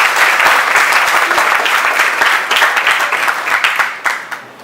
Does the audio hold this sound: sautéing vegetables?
no